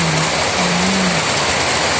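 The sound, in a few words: heavy rain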